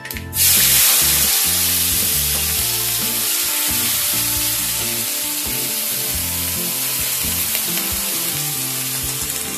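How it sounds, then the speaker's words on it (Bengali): Finely chopped onion hits hot oil in a pan while cooking pomfret, bursting into a loud, steady sizzle that holds continuously with a faint background music bed underneath. "ফোড়নটা হয়ে গেলে এর মধ্যে আমি ফাইন চপ করে কেটে রাখা পেঁয়াজ অ্যাড করে দেবো।"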